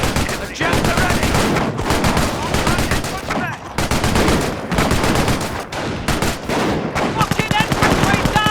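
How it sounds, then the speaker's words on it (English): A machine gun emplacement fires in the World War II strategy game Company of Heroes, loud sustained automatic bursts with brief pauses, layered with battle effects and a voice speaking. "An MG emplacement is an excellent defense against attacking infantry."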